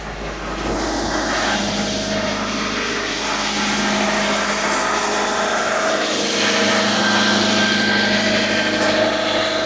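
A 1996-2000 Honda Civic's D16Y7 engine idles steadily and evenly, a constant mechanical drone with a faint higher whine, close by and unchanging.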